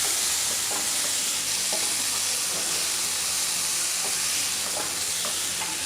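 Vegetables softly frying and stirring in a pan over low heat, a steady close hiss with light intermittent scraping clicks, no voices.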